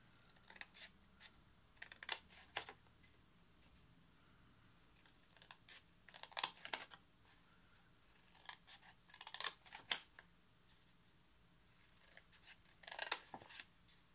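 Scissors snipping through folded paper for a Christmas bauble, quiet and close, in short bursts of several quick crisp cuts separated by pauses.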